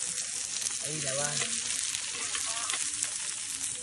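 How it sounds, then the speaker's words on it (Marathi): Kaul, a shellfish, pan-fried on a hot tawa, giving a steady, close, loud sizzle that runs throughout with faint stirring and a brief murmur of voices in the background. "असे करायचे असते कौल फ्राय. टाका तवा फ्राय."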